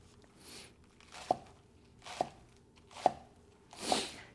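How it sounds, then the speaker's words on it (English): A knife chops scallions on a cutting board in four slow, deliberate strikes, each a crisp thud close by, spaced about a second apart with quiet between. "let's go ahead and start chopping that. And we're going to chop that into fairly small pieces here"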